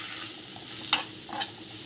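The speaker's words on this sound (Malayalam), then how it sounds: "കറിവേപ്പില ഇട്ടു പിന്നെ ഈ അരിഞ്ഞ് വെച്ച് ഒരു കുറച്ച് സാമാന്യം വലിയ ബീട്രൂട്ടായിരുന്നു" Chopped beetroot stir-frying in a pan with mustard seeds and curry leaves, a soft low sizzle with a couple of brief scraping stirs, quiet and close.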